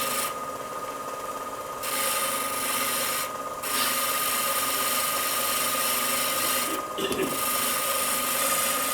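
Continuous abrasive grinding on ash wood to raise its grain into ridges, a loud, steady rasping drone with a constant mechanical hum and a few brief dips in intensity, close by and without speech.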